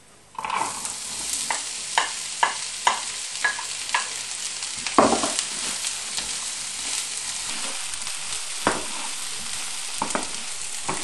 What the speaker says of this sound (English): I've got 2 tablespoons of vegetable oil. You want to put it on medium heat and add the onions.